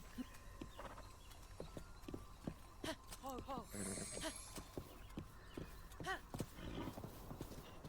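Steady clip-clop of horse hooves at a walking pace in the video game The Legend of Zelda: Breath of the Wild, with a few short whinnies and snorts mixed in, and a voice talking faintly underneath.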